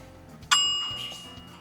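A single bright notification bell ding strikes once and rings out, its tone slowly decaying over about a second against a faint background.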